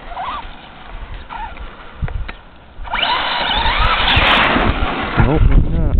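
Traxxas Stampede RC truck revving hard for a wheelie with the wheelie bar raised, a rising motor whine that swells loud after a short quiet stretch, with rattling and outdoor noise around it.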